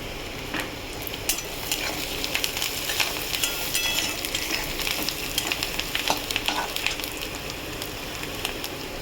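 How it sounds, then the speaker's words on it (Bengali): Onions frying in a pan for a fish curry, a dense, crackling sizzle that continues steadily, punctuated by frequent small pops and stirring scrapes, close and fairly loud with no voices. "দেখুন পেঁয়াজটা আমার ভাজা হয়ে গেছে"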